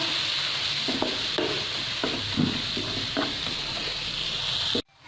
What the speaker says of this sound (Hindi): इसे फ्राई करेंगे प्याज के साथ